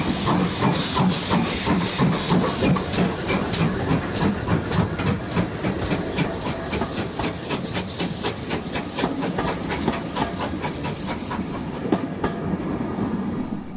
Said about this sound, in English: we stopped to allow Hagley Hall to pass with a rather undersized non-stop train.